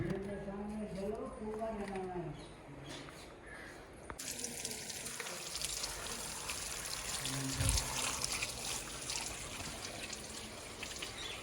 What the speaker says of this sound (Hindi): एक टोकरी में पानी झलो, नीचे सारी चीज़ें धुल जाती हैं।